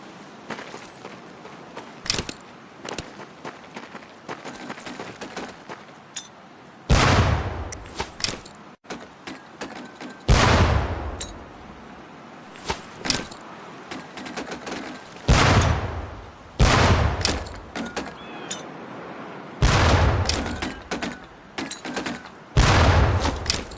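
In the World War II shooter Medal of Honor: Pacific Assault, training grenades land near barrels. Sharp blasts and booms go off at irregular intervals over a crackle of distant gunfire.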